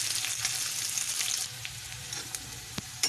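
Onions fry in hot oil for an Odia-style masala fish curry, a steady close sizzle with occasional sharp pops and utensil taps, easing slightly halfway through.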